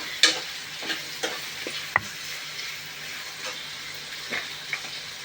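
Onions fry in a pan for an egg junnu curry, giving a soft, steady sizzle. Several sharp clicks and scrapes from stirring rise above it.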